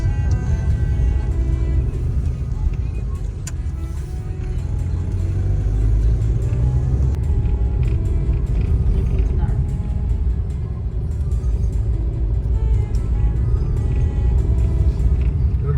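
Heavy traffic streams along the Thamarassery ghat mountain road, a continuous low rumble of engines and passing vehicles that stays loud throughout while a person talks over it.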